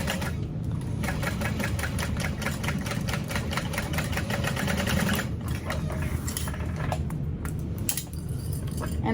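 A sewing machine runs steadily and rapidly, top stitching through the exterior panel of a bag, a continuous mechanical whir with a fast repeating needle beat and no speech.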